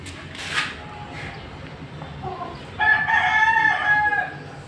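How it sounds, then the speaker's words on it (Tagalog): Rooster crows clearly once in the second half, a loud drawn-out call at moderate distance over faint outdoor background noise, with a few softer sounds earlier. "ito yung manok ng papa ko."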